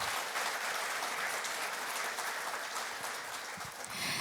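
Audience applause for award winners at a formal awards ceremony in a hall, steady, dense clapping that holds at a moderate, slightly distant level for about four seconds with no talking.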